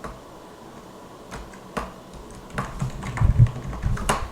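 Keys tapped on a computer keyboard while a password is entered, sparse isolated clicks at first, then a quicker, denser burst of close, crisp keystrokes toward the end, with no talking.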